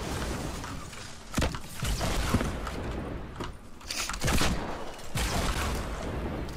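Dense bursts of gunfire and heavy explosive booms from the video game Fortnite Battle Royale, close and loud, with rapid shots running throughout and several sharp blasts standing out above the constant shooting.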